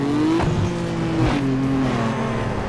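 A race car engine in Need for Speed Underground 2 holds a loud, steady high drone, with brief pitch dips where gear changes break the revving as the car speeds through the race.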